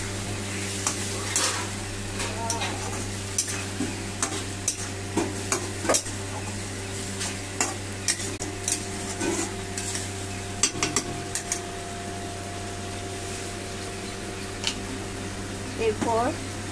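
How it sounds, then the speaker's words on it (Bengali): Lote fish being stirred in a frying pan, with steady sizzling frying and repeated scraping, clinking strokes of a utensil against the pan, close and moderately loud throughout. "মাছটাকে আমি এবার নেড়ে দেবো।"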